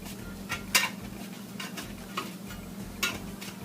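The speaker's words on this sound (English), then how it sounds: "I'm going to go ahead and scoop some out here." Homemade vanilla cinnamon ice cream scooped from its container, a few faint irregular scrapes and knocks of a utensil against the tub, close but quiet, with no talk.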